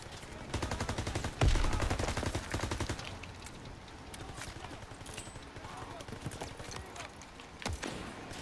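A machine gun fires in Call of Duty WW2 combat, with a rapid burst of shots up front followed by scattered distant gunfire and clatter. Speech is heard faintly.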